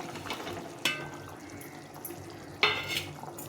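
Pieces of fried fish drop into boiling fish curry made with elephant foot yam, giving two distinct splashy plops with sizzling and bubbling between them.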